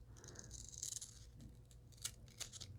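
Scissors snip through glossy magazine paper being cut for a junk journal, a series of close, crisp slicing crunches with short pauses between cuts and no talking.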